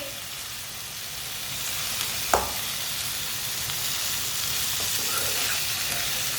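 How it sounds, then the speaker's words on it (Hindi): Tinda frying in a pan with turmeric powder and whole coriander, a continuous soft sizzle with a single sharp spoon clack and occasional stirring scrapes, no talk. "आधी चमची हल्दी पाउडर। आधी चमची साबुत धनिया। अच्छी तरह मिक्स कर लेंगे।"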